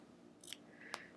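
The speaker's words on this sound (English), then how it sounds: "let's trim that with a 1/4 inch seam allowance with my little baby scissors here" Small scissors snip through quilt binding fabric, two quick quiet cuts close by in an otherwise still room.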